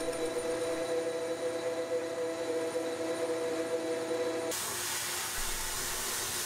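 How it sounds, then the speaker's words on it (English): A metal lathe truing up the end of a rifle barrel gives a steady mechanical hum with tonal whine, then shifts abruptly to a broad, bright hiss partway through, continuous and close with no talk. "Now we'll true the end up on the lathe."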